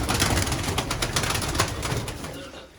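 Pigeons kept as pets by a union president, heard as close, dense cooing and rustling with wing flaps, loud throughout and fading slightly at the end.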